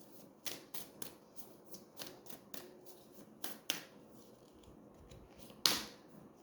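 Tarot cards are shuffled and drawn by hand, giving soft, quick riffling snaps and flicks in an irregular rhythm, close and quiet, with one sharper slap near the end.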